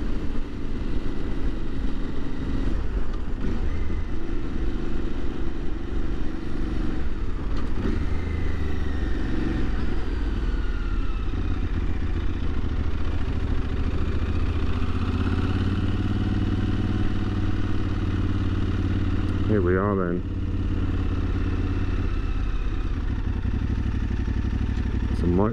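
A motorcycle rides at low speed into a parking spot beside a motorcycle park at a Lake District trail centre, its engine a steady near drone with clatter, while a rider talks over it.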